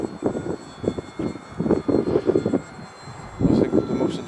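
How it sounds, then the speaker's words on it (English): A small plane's engine drones and pulses unevenly as gusty wind buffets it in flight, with a continuous rough rumble. "the wind, the gusts get under the plane and you fight in the plane, sort of like gaining height"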